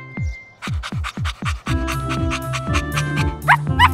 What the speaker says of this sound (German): Das Hündchen ruft seine Freunde.